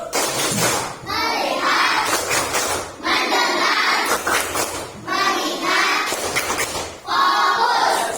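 A sixth-grade madrasah class performs a clapping chant together, with loud rhythmic bursts of unison hand claps alternating with the children's chanted voices in repeating cycles.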